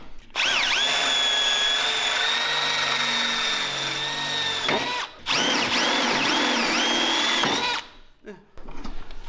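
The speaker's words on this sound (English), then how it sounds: "So let me grab a 1/4-inch bit. We'll drill that top one first." A loud, high-pitched power drill with a 1/4-inch bit whines steadily, cuts out briefly, then runs again with pitch wobbles as it bores a hole in a go-kart part, before stopping.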